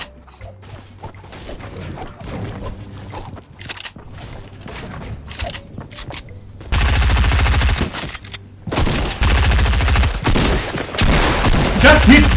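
SMG fire in Fortnite: quiet mechanical clicks and reload clatter give way to loud, rapid automatic bursts in long sustained runs, close and dominant, with no voices.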